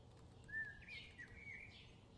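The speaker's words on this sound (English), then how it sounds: "I like hearing the birds chirp." Small birds sing in short, thin whistled chirps and trills, a few calls over roughly two seconds, faint and fairly distant against a low background rumble.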